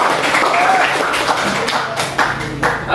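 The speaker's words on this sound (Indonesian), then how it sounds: "Tepuk tangan untuk kita semua." A classroom of students claps their hands in applause, a dense, close patter of many claps lasting a few seconds with light voices mixed in.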